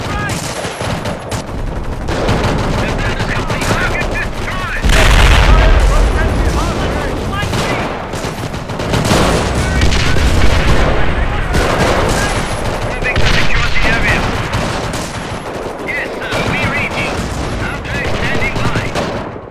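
Battle gunfire from Company of Heroes with the Europe at War mod at Oosterbeek: sustained rifle and machine-gun fusillades with heavy booms, loud and dense throughout, while shouted unit voice lines break in over the fighting.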